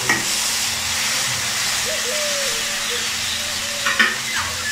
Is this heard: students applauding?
no